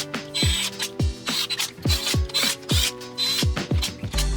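A torque wrench ratchets as it tightens engine bolts on a KLX 140 dirt bike, sounding a string of about ten loud, close clicking strokes in a quick, steady rhythm with metallic rasping between them.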